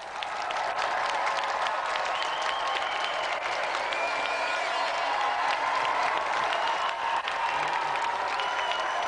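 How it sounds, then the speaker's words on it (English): A television game show studio audience applauds a volunteer from the crowd, with dense, even clapping that stays steady and fairly loud throughout, plus faint cheering mixed in. "Give a round of applause for our volunteer."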